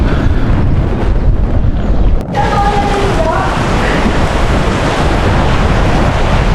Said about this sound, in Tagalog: Buhos ang ulan!